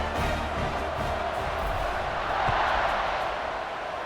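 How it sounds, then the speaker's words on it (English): A stadium crowd roars in a college football video game, Kentucky at Missouri, a dense, steady wash of distant cheering that swells slightly midway and stays loud throughout. "Do you think this crowd's going to get loud when their defense comes on the field?"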